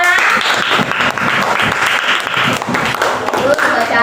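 Classroom clapping during a Quran recitation teaching practice at IAIN Sultan Amai Gorontalo, dense and fairly loud applause from a group of students running throughout, with some voices underneath.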